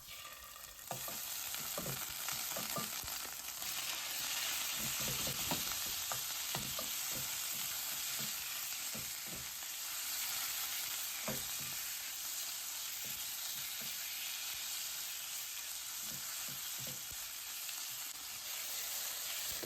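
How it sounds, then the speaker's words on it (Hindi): Chicken fries in a pan with garlic paste and ginger paste, a steady, dense sizzle and crackle with intermittent scrapes and stirring strokes running evenly for about twenty seconds, no talking. "1/2 टीस्पून जिंजर का पेस्ट डालने के बाद इसमें चिकन ऐड कर देंगे।"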